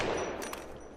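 Automatic weapon hip-fired in the video game Apex Legends, a dense continuous burst of rapid shots filling the whole moment at close range.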